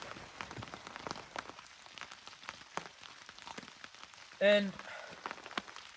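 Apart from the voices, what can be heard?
rain falling on campsite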